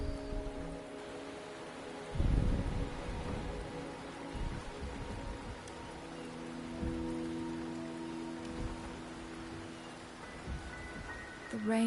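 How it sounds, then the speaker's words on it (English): Steady rain in the video game Wuthering Waves patters softly in the background, with a low rumble and a few louder thuds over a faint tonal hum. "The rain is subsiding, and the sky will soon clear."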